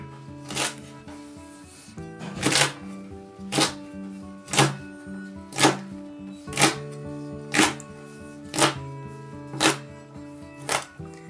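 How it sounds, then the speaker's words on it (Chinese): A knife cuts washed garlic scapes into lengths on a cutting board, sharp close chops falling in an even rhythm about once a second, with light music playing underneath. "先准备一把清洗干净的蒜苔，把蒜苔呢，我们给切成段。"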